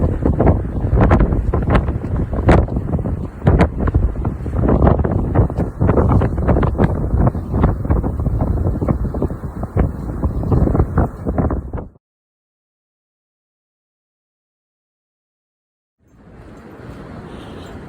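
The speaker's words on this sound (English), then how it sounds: "we're gonna try to get out of the wind and head back to the hills" Strong wind buffets the microphone near a beach, loud gusty roaring for about twelve seconds, then near silence, then a softer steady wind returns at the end.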